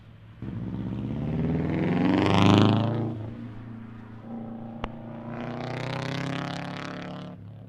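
Rally car number 673 at the Ridge Motorsports Park super special stage sweeps past alone, its engine rising to a loud close peak then dopplering away, followed by a sharp pop and a second swell of engine noise from further off.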